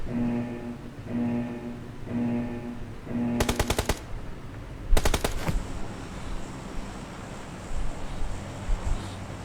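Bursts of automatic gunfire from a competitive shooting video game, two rapid rattling volleys in quick succession after a steady tonal hum, followed by softer ambient game noise and scattered shots.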